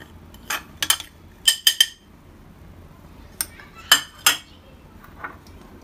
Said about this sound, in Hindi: इधर हमने एक बाउल लिया है, इसमें हम सारे मसाले को डालेंगे